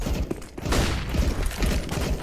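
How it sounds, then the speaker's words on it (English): A flashbang grenade going off in Counter-Strike: Global Offensive, a broad burst standing out from a busy stretch of scattered thumps and rattling gunfire, fairly close. "Flashbang! I'm throwing a flashbang!"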